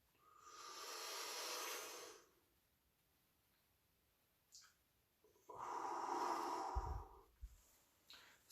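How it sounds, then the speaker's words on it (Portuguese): Slow, controlled belly breathing done as an anxiety-calming exercise: a long, soft airy exhale, a pause of near silence, then a longer breath with a faint breathy rustle near its end, close and quiet. "Tenta jogar o ar para a barriga, assim. Segura um pouquinho e vai soltando devagar."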